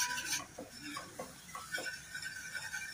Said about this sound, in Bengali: অল্প অল্প দুধ দিয়ে এটা নাড়তে হবে